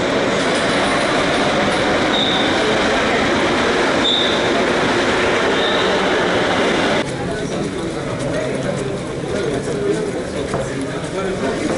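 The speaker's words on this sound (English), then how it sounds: "So now we're gonna take the metro." A Mexico City metro train rumbles loudly and continuously, with faint squeals from the wheels and rail, and the noise drops slightly partway through.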